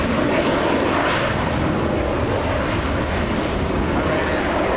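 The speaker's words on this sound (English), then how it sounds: "we have the A321 coming in right now" A Delta Airlines Airbus A321 jet lands at LAX with a loud, steady engine roar that stays close throughout.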